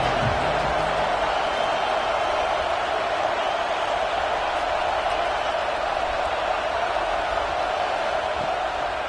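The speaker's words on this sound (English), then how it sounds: "how nice is it to have the home crowd going absolutely bananas?" A home crowd roaring in a college football video game, Grambling against Mississippi Valley State, a steady loud wall of cheering with no breaks, lasting the whole stretch.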